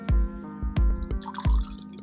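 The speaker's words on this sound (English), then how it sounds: "Had to pour me a drink." A drink being poured into a glass: a few short glugging splashes with faint ringing tones from the glass, close and clear, and no talking.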